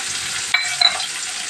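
Tomato pieces frying in a pan of oil for an amaranth and onion curry, a steady loud sizzle with two brief stirring scrapes partway through, no voices.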